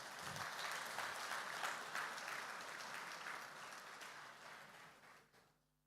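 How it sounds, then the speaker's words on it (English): An audience at a ministerial retreat gives the Nigerian president, Bola Tinubu, sustained applause. The dense, even clapping runs for several seconds, then fades out. "Let's give him another round of applause."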